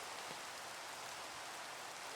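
Heavy rain pours down in the Minecraft video game, a steady, even hiss of downpour with no variation, fairly quiet and with no voices.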